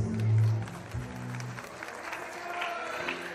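An audience applauds at a huapango huasteco dance contest, with clapping and crowd noise continuing after a brief loud low sound at the start, and voices faintly mixed in.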